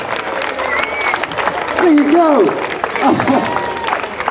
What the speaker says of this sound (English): A round of applause for Abigail!